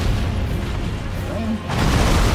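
Crossbow bolts exploding in Elden Ring, a loud rumbling boom with a fresh burst near the end, over broad noisy battle sound.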